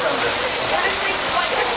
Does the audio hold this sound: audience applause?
no